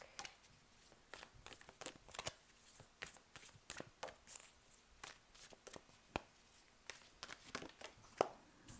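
Round Mother Peace Tarot cards being shuffled, a run of quick crisp riffles and soft slaps repeating irregularly at close range, fairly quiet, with no talking.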